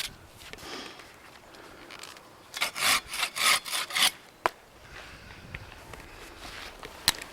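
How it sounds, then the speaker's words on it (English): A handsaw cuts dead branches high in a leaning cypress tree, about six quick rasping strokes close by, followed by quieter rustling and a couple of sharp knocks. "clear the minor deadwood out with the handsaw"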